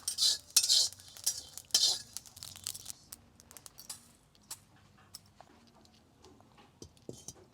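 Roasted cumin seeds are taken off a pan with a metal utensil: a few quick scraping clinks near the start, then sparse light taps and clatter fading out.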